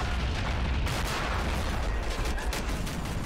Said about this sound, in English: Explosion to the face!